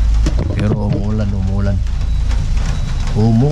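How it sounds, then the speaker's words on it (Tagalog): Steady rain falls at a quarry site as a constant soft hiss of drops, running beneath someone talking close by. "Pero umuulan."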